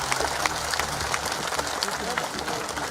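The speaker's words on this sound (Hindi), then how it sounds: "रायमुनि के लिए सभी लोग ताली बजाइए जरा।" Crowd at an outdoor election rally clapping for candidate Raimuni Bhagat, steady clapping from a large gathering, heard at a distance and somewhat muffled, with some crowd noise in the background.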